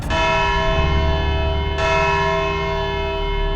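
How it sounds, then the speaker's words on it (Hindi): A courtroom bell rings out loudly twice, about two seconds apart, and each strike leaves a long, sustained metallic ring that slowly fades. "घंटी बज गई।"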